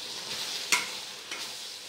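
Mint and coriander sautéing in a pan for vegetable rice give a soft, steady sizzle with two brief scraping stirs, close and fairly quiet.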